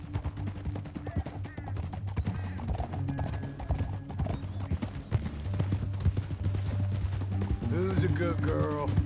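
Horse hooves clip-clop steadily in Red Dead Redemption 2, with a whinny mixed in among the game's music and ambience, and muffled voices talking over the continuous rhythmic trotting.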